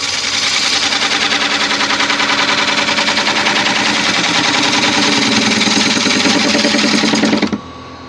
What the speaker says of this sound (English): I'm going to sharpen this gouge again, even though it's got a good edge.